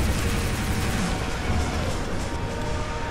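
Robots in the War Robots game fire their guns in dense, continuous bursts, a rough, loud rattle of repeated shots that runs the whole time without speech.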